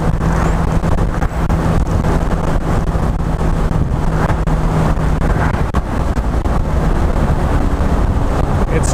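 Classic Mercedes-Benz 280SL driving, a steady low engine drone with heavy wind rush over the microphone throughout, fairly loud and continuous, no talking.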